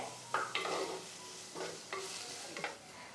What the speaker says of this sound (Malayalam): ആ സവാളയും ചേർക്കാം. അപ്പോൾ ഇത് രണ്ടും കൂടി ചേർത്തിട്ട് നല്ല രീതിക്ക് ഒന്ന് വഴറ്റിയെടുക്കാവുന്നതാണ്.